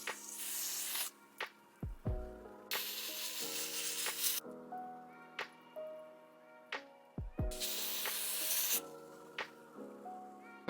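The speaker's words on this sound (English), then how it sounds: "we are going to apply a little spray adhesive" Spray adhesive misted onto a ginger 13x4 frontal wig in short hissing bursts, several spaced sprays close up with soft rubbing and handling between them.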